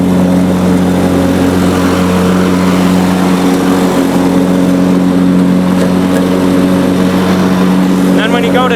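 A 1993 Honda 4514 hydrostatic lawn tractor mows at a steady, loud drone with strong low engine harmonics, holding constant throughout with no break.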